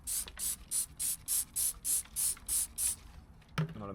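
Degreaser cleaner is sprayed onto brake calipers from a Mini Cooper S R53, giving about ten short rhythmic hissing bursts at an even pace, close and loud, followed by a brief clatter at the end.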